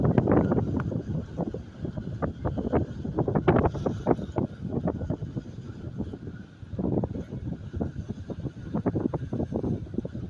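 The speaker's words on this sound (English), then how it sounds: "Probably get a lot of sound of the wind here." Wind buffeting a microphone outdoors, producing loud low rumbling gusts that rise and fall continuously throughout, with no voices.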